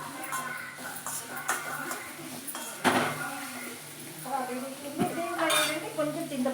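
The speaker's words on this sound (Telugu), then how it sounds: "బీట్రూట్ ముక్కలు వేస్తాను లైట్గా కొంచెం వేస్తాను" Beetroot pieces go into a tempering in a pan and are stirred, with repeated metal scraping and clinking of a spoon against the pan. Someone talks over the cooking noise.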